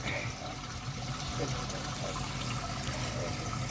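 Water topping up a freshly cleaned koi pond after a filter clean and water change, a steady continuous trickling and splashing wash held close and fairly loud throughout.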